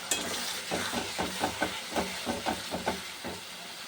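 A paste of garlic, ginger, tomato and green chilli hits hot oil with frying onions, giving a soft steady sizzle broken by repeated scraping stirs at an even rhythm, close and fairly quiet, with no talk.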